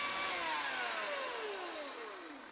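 A chainsaw cutting the wooden centerline of a boat runs at high pitch, its engine note sliding steadily downward as it bogs into the wood, then fading gradually over a couple of seconds.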